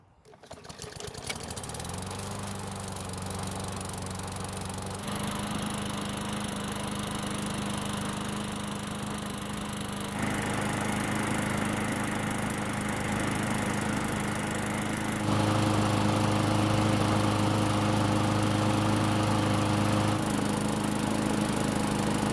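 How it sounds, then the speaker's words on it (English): A Craftsman lawn mower's small engine sputters to life after one pull, then runs steadily with a buzzing drone, its pitch shifting a few times as it idles and revs. "time to see just how well the engine starts after our adjustments"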